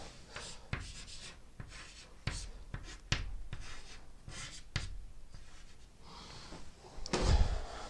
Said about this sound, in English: I'll write belief there too.